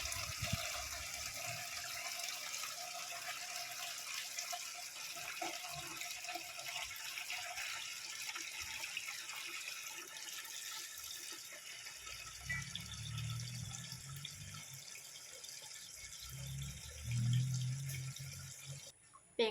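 Water runs from a household tap in a kitchen while an evening meal is prepared, a faint steady hiss with a low splashing swell near the end.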